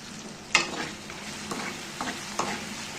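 Tomatoes sautéing in a pan for a Tamil kara kulambu, a soft steady sizzle broken by a few sharp spoon scrapes and stirring clatters, fairly quiet and close, with no talking.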